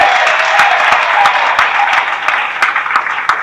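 Steady audience applause at a Guyanese political address honouring party members and election activists, dense and continuous clapping with sharp individual claps standing out, fairly loud and without speech over it.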